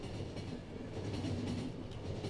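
A train rolling along in the video game The Final Station, with a continuous rumbling clatter of wheels on track and faint rhythmic clicks at a steady moderate level.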